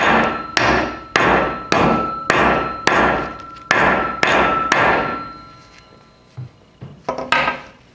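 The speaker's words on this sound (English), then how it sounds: "I'm going to pulverize it with a hammer." A hammer pounding hematite beads wrapped in a folded paper towel, striking about nine times in a steady rhythm of loud, close thuds, then a few softer scattered taps near the end.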